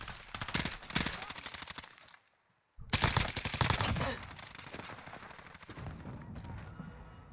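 Bursts of automatic rifle fire from an M16 in the video game Warzone, loud rapid volleys with a short silent gap, then continuing shots fading into background game noise.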